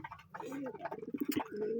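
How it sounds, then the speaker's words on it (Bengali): Domestic pigeons, including local and Giribaz breeds, coo softly in a short burst of throaty, rolling calls while being carried to a market, with a faint voice behind them. "এই যে এই কবুতরগুলো আমরা বিক্রির জন্য নিয়ে যাচ্ছি হাটে"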